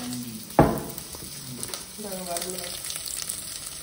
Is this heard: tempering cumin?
yes